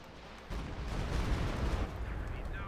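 Scott howitzers firing artillery in the video game Company of Heroes 2, a dense rumbling barrage of booms that swells after a brief quieter start and rolls on steadily, with voices faintly mixed in.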